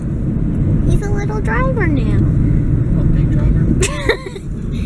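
Steady low road rumble of a car in motion fills the whole stretch, heard from inside the cabin, with people talking and a voice over it.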